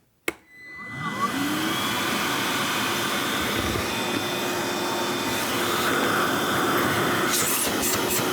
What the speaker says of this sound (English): It's a 2-speed vacuum.